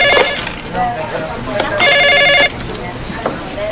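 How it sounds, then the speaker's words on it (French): An electric telephone bell rings in bursts in an indoor scene from a French drama series, loud and close, with people talking around the rings. "Doris, occupez-vous du téléphone."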